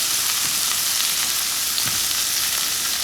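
A steak sizzles in smoking-hot avocado oil in a pan, with a dense, even frying hiss that stays loud and steady throughout and no one speaking.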